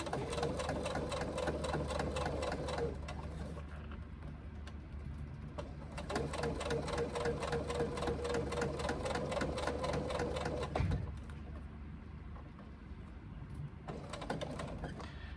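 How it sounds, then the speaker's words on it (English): A sewing machine stitches a sling, running in two long, steady bursts of rapid whirring with pauses and a small knock between them, close and clear with no talk. "What I did there was I locked the stitch off before I started sewing along"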